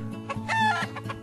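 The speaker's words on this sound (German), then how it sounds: "einem Rudel Hühner angegriffen." Chickens in the video game The Last Kingdom cluck and squawk in a quick burst of close, overlapping calls.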